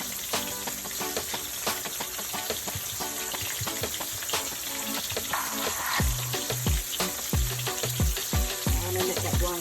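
Mustard-coated fish fillets fry in hot oil, giving a steady close sizzle with crackling bursts and a few knocks of utensils toward the end.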